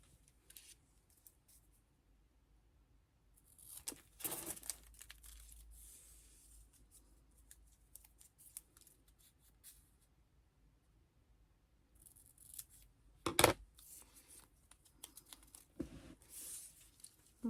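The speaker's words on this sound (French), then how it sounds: "mon ciseau" Scissors snipping paper for a scrapbooking card in a few short bursts of close crisp cuts and rustles, separated by quiet pauses.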